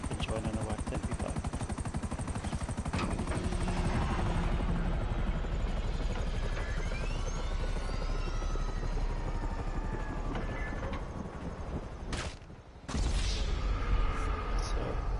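Helicopter in the video game GTA Online, a steady loud rotor and engine drone throughout with bursts of gunfire-like crackle, briefly cutting out near the end before resuming.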